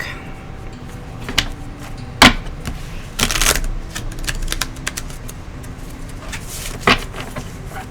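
A Crystal Angels Oracle card deck being shuffled in short bursts, sharp riffling and flicking of cards with pauses between, close to the listener.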